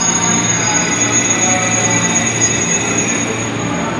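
A KRL commuter train pulling out of Manggarai station, a loud continuous rumble of wheels on rails with a high squealing whine sustained throughout, heard from on board or close by.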